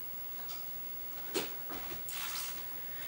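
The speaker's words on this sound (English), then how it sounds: "I'm just going to add a little bit more water." Water poured from a cup into a jar of vegetables being prepared for fermenting: a few soft splashing bursts and trickles over quiet room tone, close and fairly faint, with no talking.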